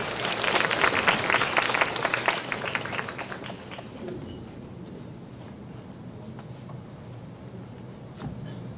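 Applause from an audience at a foreign language high school information session for incoming students, loud and dense at first, then tapering to a lower sustained patter over the remaining seconds.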